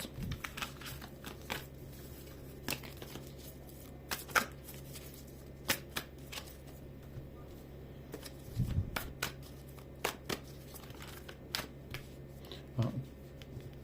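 Tarot cards are shuffled close by in a quiet room, in a series of soft, papery riffles and flicks with short pauses between them.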